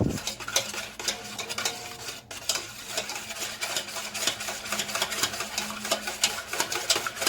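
A manual whisk beats chocolate-coffee cake batter in a bowl, producing a steady rapid clatter of metal tines against the bowl, close and continuous, with no voices.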